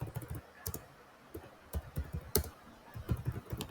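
Quiet typing on a computer keyboard, irregular bursts of light clicking keystrokes with short pauses between words, close and alone without talk.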